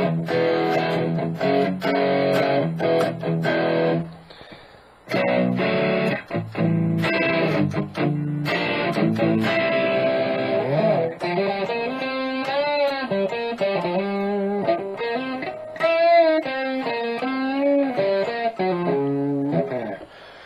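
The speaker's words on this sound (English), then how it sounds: "Here's the bridge with both coils activated in parallel." Electric guitar played through its bridge pickup with both coils wired in parallel, overdriven, chords and single-note lines ringing loud and sustained, with a brief pause near the start.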